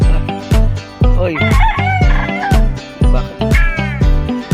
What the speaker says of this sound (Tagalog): Yun, daming manok.